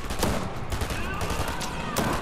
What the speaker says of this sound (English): We got burst SMG.